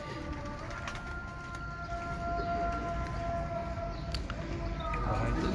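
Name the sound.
pigeons cooing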